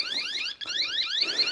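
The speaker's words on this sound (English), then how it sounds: "Now the alarm's going off." A Toyota car alarm sounds in a car body shop, with the car's front bumper scuffed and hanging loose: rapid repeated rising electronic chirps, fairly close, with a brief break partway through before the pattern resumes.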